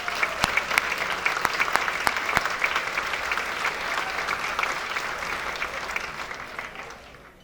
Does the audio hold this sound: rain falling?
no